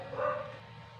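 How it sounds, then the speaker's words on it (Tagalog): A dog barks from somewhere nearby in a home kitchen while someone cooks chopsuey, a short burst of yapping barks at moderate loudness. "Maingay yung aso kasi may tao."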